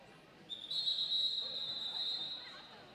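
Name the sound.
whistle signalling return to the action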